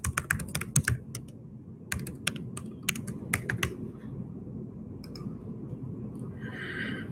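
Computer keyboard typing login details, clusters of crisp close keystrokes in the first few seconds, then sparse taps over a low room hum, fading to near quiet.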